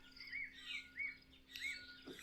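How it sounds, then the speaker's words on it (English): Faint birdsong from a sunrise chorus in a mountain setting: a few thin whistled phrases and chirps repeat at a distance over a quiet, steady background. "the birds are forming their morning chorus"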